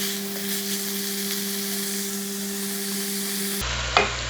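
Aloo gobi with capsicum fries in a pan, a continuous close sizzle with stirring scrapes, cut off near the end by a short clatter, no voices.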